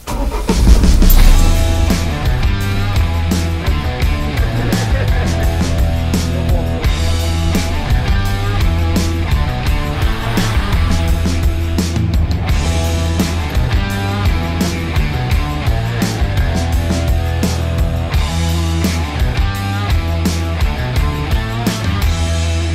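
A Land Rover Defender 4x4 pulls away with a steady, loud engine drone that holds throughout, dense and continuous, with no talking.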